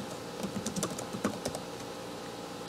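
Quick, irregular keystrokes on a computer keyboard as a name and a short note are typed, close and steady with brief pauses between bursts, no voices.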